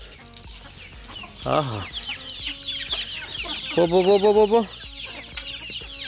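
Backyard chickens cluck and squawk while being fed kitchen waste scraps in the morning, with a few louder rising calls standing out and a voice briefly calling out nearby.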